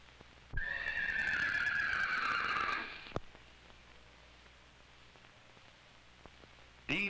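Queenie, a horse on a goat dairy farm, lets out a single loud, close whinny lasting a couple of seconds, followed by quiet room tone and a faint click.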